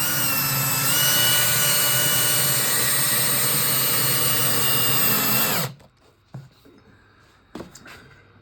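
A power drill whines loudly and steadily for about five and a half seconds during a ukulele build, then cuts off abruptly, leaving quiet room sound with a few faint knocks and handling noises.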